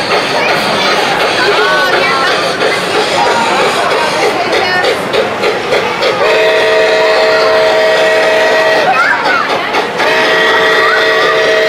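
A model train at a Christmas display in the Twin City Model Train Museum starts out: a steady rolling rumble with a sustained whistle tone blowing twice, loud and continuous beneath a busy, echoing hall.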